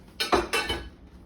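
Lamb meatball mixture is worked in a bowl in two quick bursts, each a short clatter of utensil against the dish, close and fairly loud, with no talking.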